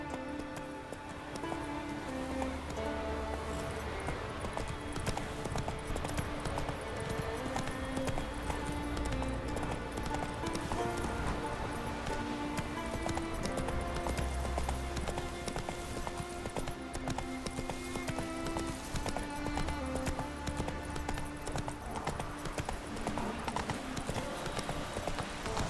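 Roach, the horse in The Witcher 3, gallops with rapid, continuous clip-clop hoofbeats under game music, with occasional faint voices mixed in.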